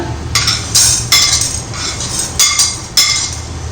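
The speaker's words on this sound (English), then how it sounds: "I am going to dry roast all the masalas" Coriander seeds, toor dal, cumin, pepper, clove and a cinnamon piece dry-roasting in a pan, stirred with a few sharp metallic clinks of spoon on pan over a low background rumble.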